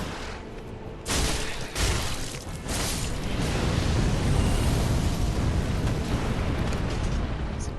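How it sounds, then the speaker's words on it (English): An ancient dragon on Archdragon Peak in Dark Souls III breathes fire, a loud, rushing roar that bursts in after a second and surges again before holding as a sustained blast to the end. "That dragon will blow fire right through the middle of that."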